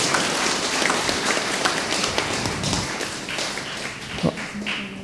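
A church congregation claps for three altar servers at a 24 December Mass, a dense, steady patter of many hands filling the room, close and even, with no voices over it.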